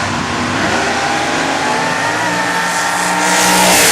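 Loud, continuous roar of powerful Dixie Door Slammers drag racing cars accelerating hard at Jackson Dragway, growing even louder toward the end.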